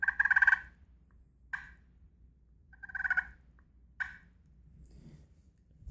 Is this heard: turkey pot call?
yes